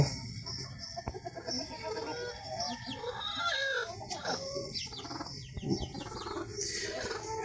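Several chickens clucking and squawking close by, busy overlapping calls with occasional knocks and rustling.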